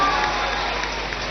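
Applause from an audience of children and guests welcoming dignitaries at a Patna event, a dense steady wash of clapping throughout the short stretch with a faint tone and speech-like sound near the start.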